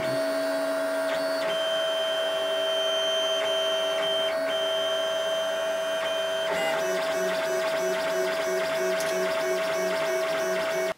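A 3D printer printing levers for an Iron Man Hulkbuster cosplay hums with a continuous whine of stepper motors, its pitched tones shifting as the print head changes moves.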